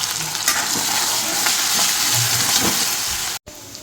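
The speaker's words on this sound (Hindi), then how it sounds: "तो इसका मैंने दे दिया तड़का" Garlic, ginger, chilli and curry leaves crackle and sizzle in hot oil for tempering, a steady loud frying hiss with small pops and stirring, briefly cutting out near the end.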